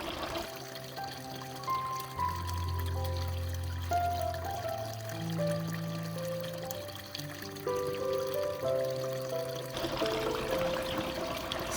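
A garden water fountain trickles continuously outdoors, a soft steady flow of running and splashing water at low volume with no pauses.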